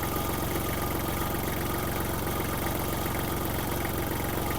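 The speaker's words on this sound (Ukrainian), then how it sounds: "гарна, чиста робота двигуна" A Kubota GL-29 mini tractor's warmed-up diesel engine idles at close range, with a constant, even, slightly vibrating drone throughout and no voices.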